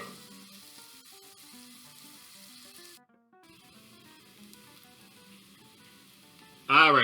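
Vegetarian sausage browning in a pan sizzles steadily at low level under faint background music, pausing briefly midway before a sharp louder burst of sizzle at the very end.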